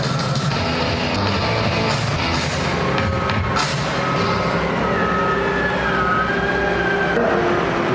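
A Caterpillar 992 wheel loader drives back in at a heavy machinery demonstration, its engine making a steady, loud low rumble with a rising whine and a faint siren-like tone over it, and no speech.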